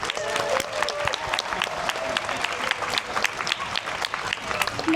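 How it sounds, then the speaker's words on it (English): Dense, steady applause from a large crowd of cruise passengers gathered with their assembly team at a muster drill aboard the Disney Dream, with scattered cheers and whistles mixed into the continuous clapping. "Let's give them a round of applause."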